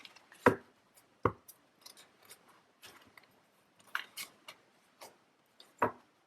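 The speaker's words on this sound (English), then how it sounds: "Really clunky shuffling today." Tarot cards being shuffled clumsily by hand, giving a handful of sharp, separate clacks and soft riffling taps at an uneven pace, fairly close and quiet with no talk.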